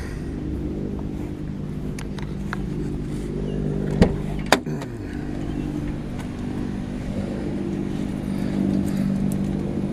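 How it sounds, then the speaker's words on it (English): Car engine cranks with a couple of sharp starter bursts, then settles into a steady low idle rumble that carries on close by. "Now, next step is to start the vehicle up."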